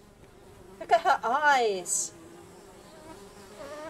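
Buzzing of flies swarming around a woman in the video game Small Island Woes, a rising, wavering drone lasting about a second, overlapping a short spoken exclamation.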